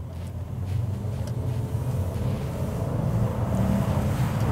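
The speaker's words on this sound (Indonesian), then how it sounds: "Ini kita coba untuk bagaimana bawa mobil ini dengan kondisi dari 0 langsung kita gas." A Mercedes-Benz CLS 400 AMG Edition with a 3000 cc engine accelerates hard from a standstill, heard from inside as a deep, rising engine rumble that builds steadily with road noise beneath.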